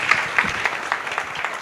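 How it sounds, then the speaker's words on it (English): An audience at a CorpsAfrica Kenya pitch day event gives the chief guest a round of applause. The short burst of quick, scattered clapping is moderately loud and close, with nothing else heard over it. "Please a round of applause for our chief guest this amazing morning."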